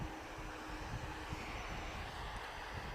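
Distant EasyJet airliner engines at Manchester Airport at dawn, a steady broadband roar holding evenly throughout with no voices.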